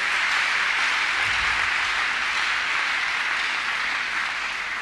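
Congregation applauding during a Thursday counselling and deliverance church service: a steady, dense wash of many hands clapping together, sustained and even throughout, with no voices standing out.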